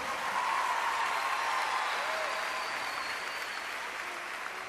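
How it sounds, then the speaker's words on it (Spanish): Concert audience applauding at Luna Park for a cumbia band, a dense, steady wash of clapping that fills the whole stretch and fades slightly toward the end. "pido otro aplauso para la banda que me acompaña siempre"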